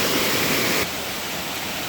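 Wang Sao Thong Waterfall on Koh Samui, Thailand, heard as a loud, steady rush of falling water close by, a constant broadband roar that drops slightly in level partway through.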